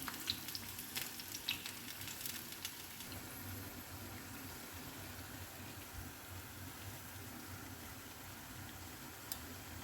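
Unni appam batter sizzling and frying in hot oil in a pan, a steady close crackle with scattered ticks and pops throughout.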